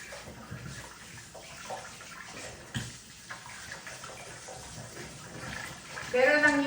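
Potatoes are rinsed under running tap water in a steady, close splashing wash, with a person speaking over it throughout.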